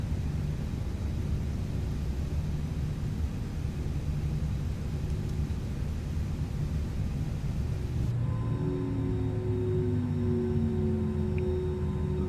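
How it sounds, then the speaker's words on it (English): Engine 2 of an Airbus A321 in the ToLiss flight simulator spools down: a broad roaring rumble abruptly thins partway through, leaving descending whining tones that glide lower over the following seconds. "That's the sound of engine 2 going off."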